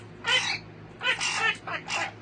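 A pet parrot gives several harsh, crow-like squawks in quick bursts, loud and close, over a low steady indoor hum.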